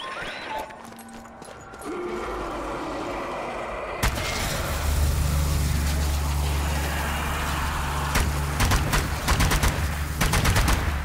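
Heavy gunfire against undead hordes in the zombie shooter game Dead Ahead, a steady barrage of shots and booms that starts quieter, then swells into loud, dense rapid fire over a low rumbling engine-like drone.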